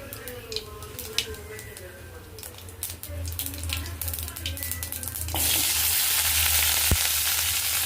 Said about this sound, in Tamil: போட்டு நல்லா எண்ணெயிலே வதக்கணும்